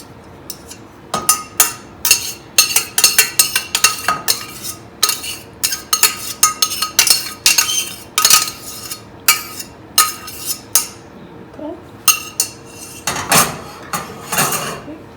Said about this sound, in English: Spatula, just mix everything in nicely.